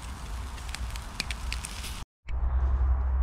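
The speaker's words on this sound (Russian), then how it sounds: "Разожгли костер." A campfire of burning branches, lit for grilling quail and mushrooms, crackles and pops with sharp, scattered snaps over a low steady roar, broken by a brief silent cut before the fire resumes louder.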